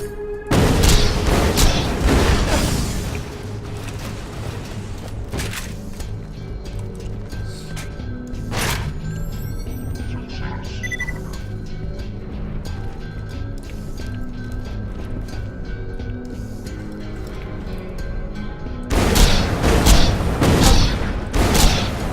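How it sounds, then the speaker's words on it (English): Rocket launcher firing its remaining rockets in Borderlands 2, with booming explosions loud at the start and again near the end, separated by a quieter stretch of game ambience and faint tonal sounds. "I'll just use up the rest of my rockets with this"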